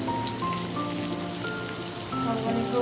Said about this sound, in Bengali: একদম কাঁকরোলগুলো ভাজি হচ্ছে এখন